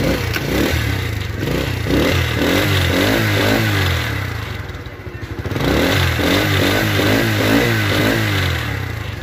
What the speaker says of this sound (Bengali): এখন দেখা হচ্ছে বাইকের সাউন্ড কোয়ালিটি এবং পারফরমেন্স।